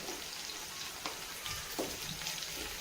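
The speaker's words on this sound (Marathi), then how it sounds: "आता मिरची थोडीशी फ्राय होईपर्यंत हलक्या हाताने आपल्याला हलवत राहायची" Finely chopped green chillies frying in oil, stirred gently: a faint, steady sizzle with a few soft clicks of the spoon against the pan, close and alone.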